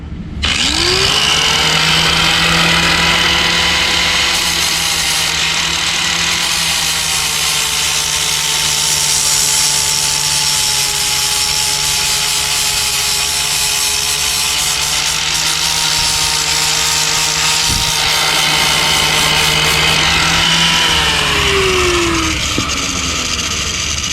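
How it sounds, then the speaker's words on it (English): A power tool grinds down a clutch adapter spacer for a repowered EZGO 1200 Workhorse utility golf cart, whining loud and continuous at a steady pitch for over twenty seconds before winding down. "that needs to be like sanded down or something like that, or grinded down"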